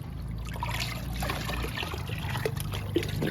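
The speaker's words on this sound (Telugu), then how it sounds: "ఇంక ఇస్తున్నానండి లిక్విడ్ని" Liquid fertilizer made with dissolved jaggery trickles and splashes onto pomegranate plants in a quiet, continuous pour with small dribbling splashes, no speech.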